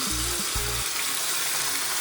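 Fish drops into hot oil and sets off a loud, continuous hissing sizzle up close. A couple of brief low thumps come right at the start.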